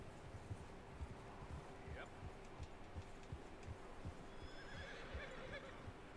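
A horse whinnies faintly in Red Dead Redemption 2 over a steady stream of clip-clopping hooves, with a low continuous hum beneath and some speech.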